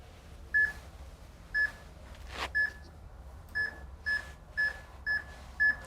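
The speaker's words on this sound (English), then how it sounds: "We're going to get 3 beeps and then we go." Series of short, evenly spaced electronic beeps from a concussion testing device, eight or so crisp tones about half a second apart, fairly faint over a quiet room.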